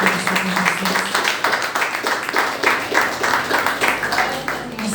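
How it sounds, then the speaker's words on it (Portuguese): Church congregation claps rhythmically and steadily for several seconds, a lively group applause with faint voices mixed in. "Aplauda o Senhor Jesus, irmãos."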